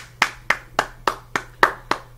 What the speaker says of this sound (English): give Bianca Belair a round of applause